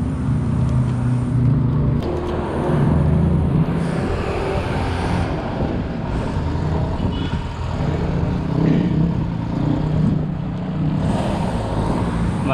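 A jeep engine runs loud and close on the road near Antipolo, a steady broadband rumble that holds for the whole stretch with no talk over it.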